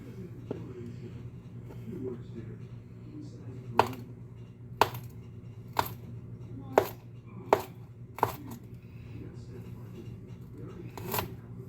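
A knife trims and chops garlic cloves on a board in a series of crisp, separate cuts about one per second, close and clear, with a low murmur and a steady hum underneath.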